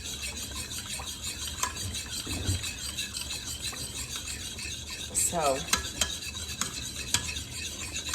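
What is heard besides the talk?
stirring clam chowder in a pot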